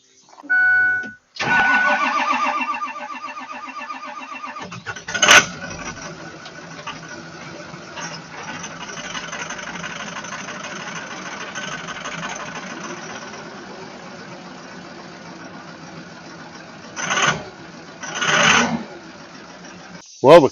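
Ford F550 Super Duty truck, recovered after theft and running on a borrowed winch battery, cranks briefly, catches and settles into a steady close idle, with a couple of louder revs or clunks near the end.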